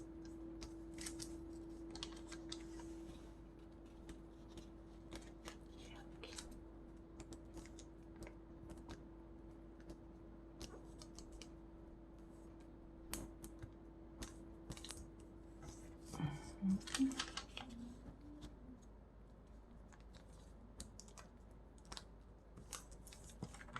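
Gold origami paper being folded into a turtle, faint close crinkles and light creasing taps scattered over a quiet background with a low steady hum, a brief louder rustle near the end.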